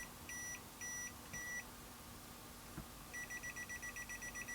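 Rapid electronic beeps from a Redfish iDVM550 clamp meter, coming in short bursts, then a quicker continuous run of evenly spaced beeps near the end.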